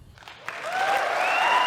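Applause from a crowd swells from light scattered claps into steady clapping, with a faint whistle or cheer riding on top.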